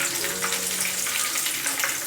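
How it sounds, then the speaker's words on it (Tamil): Chicken pieces fry in hot oil for a crispy chicken fry, giving a steady, loud, close hiss and sizzle with no talk. "சிக்கன் நல்லா வெள்ளடிச்சு இப்போ நம்ம எடுத்து வெளில வச்சிடலாம்."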